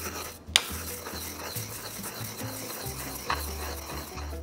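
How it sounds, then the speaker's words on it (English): Thyme and celery seed being ground fine in a mortar, a steady gritty rubbing and rasping of the pestle with a couple of sharper knocks, close and alone. "we want to grind this down pretty fine"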